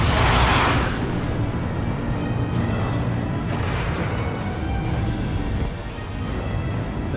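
Heavy ship cannons firing from a Drake Corsair in Star Citizen, a dense rumbling barrage of booms with a strong burst at the start and sustained roaring blasts throughout.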